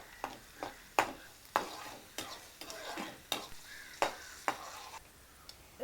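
Garlic fries in hot oil for a curry leaves pickle, a soft sizzle punctuated by regular scraping stirs of a spoon against the pan, fairly quiet and close.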